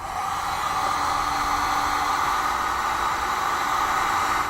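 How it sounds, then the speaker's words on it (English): A heat gun blows a steady, loud hiss of hot air over heat shrink tubing on battery disconnect wiring for a 2014 Jeep Wrangler, constant and unbroken throughout. "I'm going to use a heat gun to shrink down my heat shrink"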